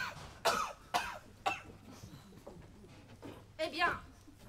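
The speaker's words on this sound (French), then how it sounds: "Cause de ma toux." Someone coughs repeatedly in several harsh bursts spaced irregularly, with throat clearing among them, close but fairly quiet, heard against a faint background hum.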